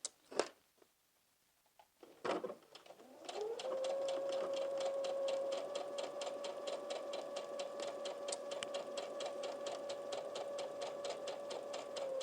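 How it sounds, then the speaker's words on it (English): A sewing machine stitches around the curved edge of an A-line skirt pocket; after a few short handling knocks it starts up and runs in a steady, close, rapid motor-driven stitching that continues to the end, with no talk. "Then we're going to go to the sewing machine, and we're going to sew a stitch all the way around."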